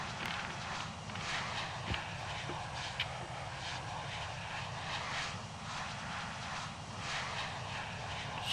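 Airbus A380 jet engines spooling up for takeoff in the flight simulator game Infinite Flight, a steady, loud broadband roar that holds without a break throughout.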